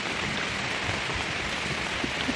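Heavy rain pouring during the 2022 flood in Barhatta, Netrokona, Bangladesh, a dense steady roar of drops beating on surfaces with no let-up.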